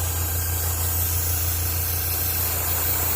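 An airbrush sprays varnish onto a tank model in a spray booth, producing a steady, even hiss over a constant low mechanical hum from the booth or compressor.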